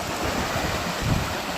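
Flood water from the River Don surging steadily through Thorn Lock at Stainforth with its paddles fully raised, a continuous broadband rush close to the microphone, with wind buffeting mixed in.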